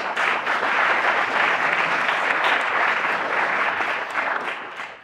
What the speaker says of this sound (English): I think all of you need to give a round of applause for yourself for helping that happen.